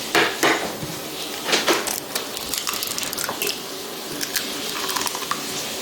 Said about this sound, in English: So I will crack the eggs.